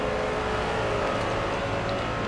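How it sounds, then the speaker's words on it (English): A continuous, loud Ford GT MK1 race car engine drone in Forza Motorsport holds a steady high pitch throughout, with no speech. "What a noise of a car."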